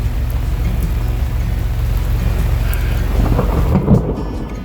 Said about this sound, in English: Should be getting a pretty good storm here in a second.